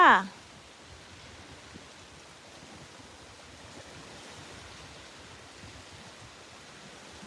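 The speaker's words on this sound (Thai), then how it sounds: "ชมเสียงน้ำนะคะ เหมือนอยู่ทะเลเลยค่ะ แต่นี่เป็นทะเลสาบน้ำจืดค่ะ" Steady broadband wash of freshwater lake water lapping at a shore in Sweden, continuous and gentle with no distinct waves, after a brief voice at the very start.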